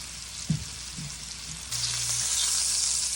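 Thick steaks searing in a hot pan, left unmoved to crust, a steady close sizzle that swells louder partway through after a few brief clunks and handling noises at the start.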